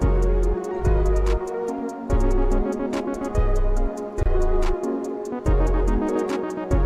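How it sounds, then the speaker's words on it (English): A music production beat plays with rapid rattling hi-hat rolls over pulsing bass hits and a steady synth layer, loud and continuous with no talking. "I'm starting to rattle the hi-hats."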